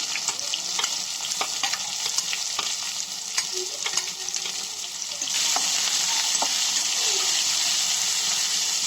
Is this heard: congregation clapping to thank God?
no